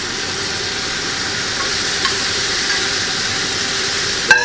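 Sauce sizzles steadily in a hot pan as it cooks off while making a champagne brown butter sauce for mushroom tortellini, a loud even hiss with a brief clatter near the end.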